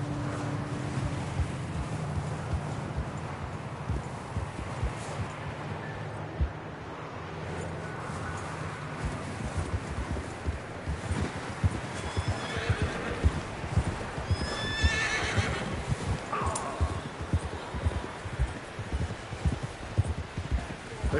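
Horses neigh and whinny over steady clip-clop hooves in a Red Dead Redemption game scene, with rustling and ambient wind throughout, a few whinnies standing out near the middle, moderately loud and continuous.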